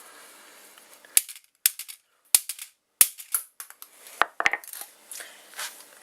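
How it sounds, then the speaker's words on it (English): A hammer smashes the camera section of a Hitachi VT-2500A VHS camcorder, delivering sharp, loud, irregular cracks of breaking plastic and metal, clustered blows with short pauses between them. "Maybe I should destroy this with a hammer."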